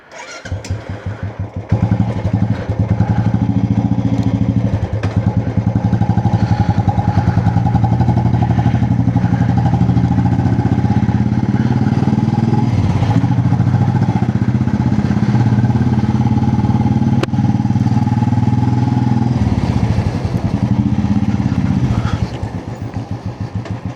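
Motorcycle engine running steadily throughout a ride, a loud continuous exhaust drone with low rumble and slight throttle changes, close to the mic, no voices.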